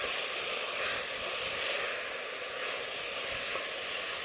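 Roasted cumin powder, turmeric and coriander powder fry over a low flame in a pan for misal, producing a continuous, even hissing sizzle that holds steady throughout.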